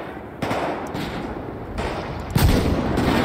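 Sharp sniper gunfire bursts in a zombie-mode GTA V game, with a loud crack near the end over steady background noise; no talking.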